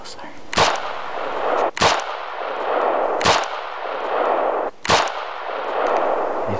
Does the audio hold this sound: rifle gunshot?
yes